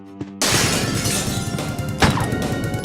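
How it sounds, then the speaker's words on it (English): Killer dogs from the Resident Evil video game smash through glass windows: a sudden loud crash with shattering glass, chaotic thuds and debris, then a second burst of breaking near the end. "killer dogs repeatedly throw themselves through glass windows"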